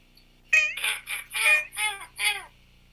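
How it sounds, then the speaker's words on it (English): Harsh, cackling bird calls of seagulls squawking overhead, a quick run of about six bursts spaced close together, moderately loud against a quiet background. "I hear seagulls overhead."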